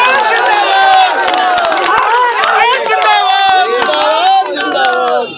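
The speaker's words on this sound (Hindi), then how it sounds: "ये तालियों की गड़गड़ाहट" Crowd at a village panchayat election nomination for the mukhiya post claps and cheers loudly, scattered sharp claps mixing with many raised, shouting voices in continuous hubbub.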